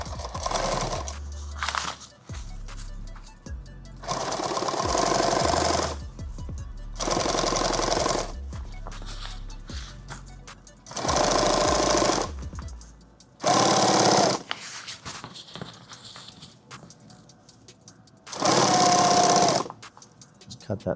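Bursts of a sewing machine stitching a padded war belt tube, several loud rapid runs of a second or two each, separated by pauses in which a person talks and handles the fabric.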